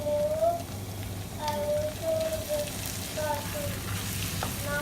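Cauliflower rice stir-fries in a pan with a steady, soft sizzle and crackle, while faint squeaks from stirring or the pan surface recur throughout.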